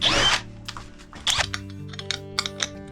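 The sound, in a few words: drilling a hole in a brass plate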